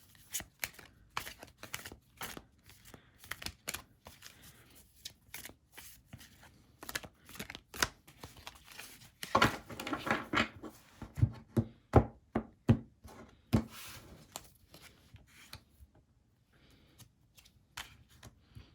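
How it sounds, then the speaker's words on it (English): Tarot cards handled one at a time while their edges are rubbed to remove ink, a quiet, close series of irregular taps, scrapes and shuffling rustles, denser in the middle. "rubbing the ink off of the sides of these cards"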